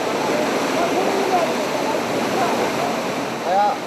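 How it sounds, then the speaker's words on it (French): A flooded river rushes through the Pakistan mountains with a loud, constant roar of fast water close by, plus a few faint higher tones above it. "À la sortie du tunnel de la mort, la rivière est en crue."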